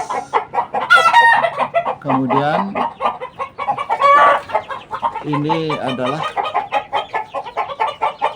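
Chickens and chicks about five weeks old cluck and call close by in a busy mix of short squawks and a crow-like cry, while someone talks over them.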